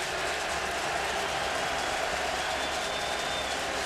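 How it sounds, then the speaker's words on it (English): Saskatchewan Roughriders home stadium crowd at a CFL football game against the BC Lions, a broad steady roar of many distant voices, constant and even with no single shout standing out. "Now we're going to hear the Saskatchewan crowd"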